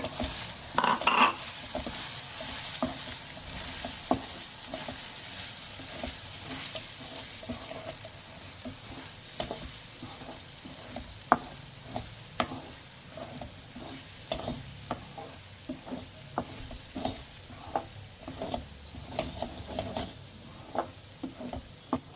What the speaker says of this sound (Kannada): ಓಟ್ಸ್ ಹಾಕ್ತಾಯಿದ್ದೀನಿ. ಇದೆಲ್ಲ ಸ್ವಲ್ಪ ಬಿಸಿ ಮಾಡ್ಕೊತಾ ಇದ್ದೀನಿ.